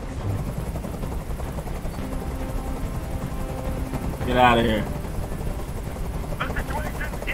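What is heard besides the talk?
helicopter in video game Detroit: Become Human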